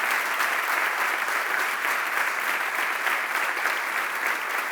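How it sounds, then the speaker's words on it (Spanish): An audience at a memoir launch applauds two women, a thick, even wash of many hands clapping continuously at steady volume, with no voices rising above it. "Un aplauso para estas dos mujeres, por favor"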